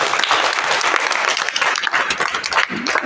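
An audience of school students visiting an ITI claps in a loud, dense round of applause that fills the whole clip.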